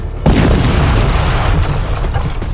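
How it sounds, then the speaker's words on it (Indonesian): Ground bursting apart in a sudden explosion, a heavy boom that strikes hard after a brief silence and rolls on as a loud, rumbling roar with debris-like crackle, no voices. "Tanah yang ia pijak tiba-tiba meledak"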